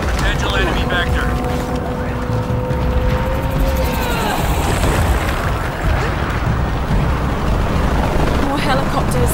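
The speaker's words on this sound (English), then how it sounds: "Helicopters." Helicopters in the video game Shadow of the Tomb Raider give a loud, steady rotor and engine drone that runs the whole time, mixed with dense game noise and voices.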